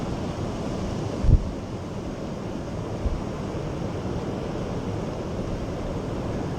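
Steady roaring wind with gusts of 60 miles an hour rushes across the microphone, a broad buffeting noise with a couple of brief low thumps as gusts hit.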